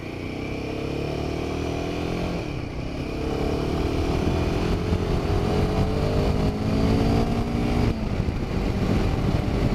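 A Royal Enfield Bullet motorcycle accelerates on the road, its thumping single-cylinder note rising in pitch through the gears with rushing wind around it. The engine sounds close to the microphone and fairly loud.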